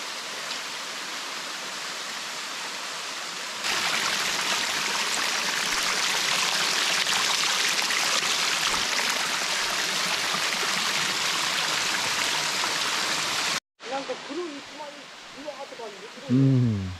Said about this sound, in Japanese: もうこの水のサラサラっとした流れが、すごいなんか、清らかっていう言葉がふさわしいんじゃないですかね。